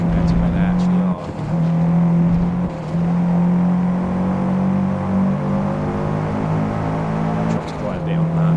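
Race cars in the Forza Motorsport video game, with a steady engine drone and shifting pitch as the car holds speed, continuous and loud, with a voice talking over it.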